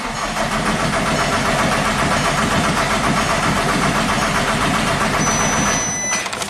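Volkswagen Jetta TDI diesel engine being cranked with a freshly installed high pressure pump after an engine swap, a loud steady mechanical churning that runs continuously for several seconds before abruptly stopping.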